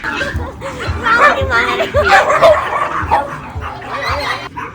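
Several dogs bark, yip and whimper at an unfamiliar dog arriving at a dog cafe in India, a busy, overlapping chorus of close yaps with thumping steps or movement throughout.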